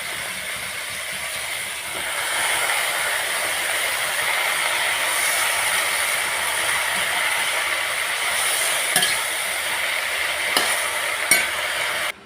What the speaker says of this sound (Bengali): এবারে কেটে রাখা পুঁই শাক দিয়ে দেব।